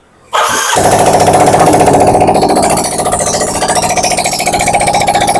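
A Yamaha Mio Soul GT 54P scooter engine catches after a brief start attempt and settles into a loud, close, rapid buzzing idle that runs steadily to the end.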